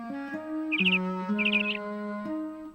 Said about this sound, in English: awakened by the sound of a chirping bird just outside her window